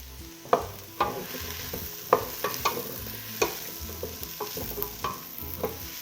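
Potatoes with turmeric and thyme sautéing in a pan: a soft continuous sizzle broken by sharp clacks and scrapes of stirring, close and fairly loud, without speech.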